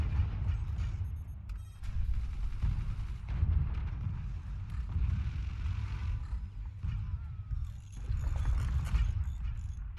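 Mortar barrages in the physics-based fort-building strategy game Forts, a dense, continuous low rumble of repeated booming shots and impacts that persists loudly throughout, with occasional crashing debris.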